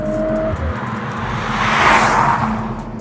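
A Mercedes-AMG CLE 53 coupe accelerating and downshifting, its engine note rising and falling through the quad exhausts with a few short crackles, heard from close by as the car rushes past.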